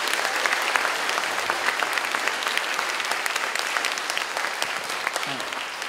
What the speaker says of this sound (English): Everybody give them another round of applause